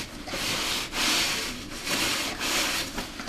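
Cloth soaked in drugstore alcohol rubbing back and forth along a surf rod handle to wipe off leftover glue, giving close, breathy swishing strokes in a steady rhythm.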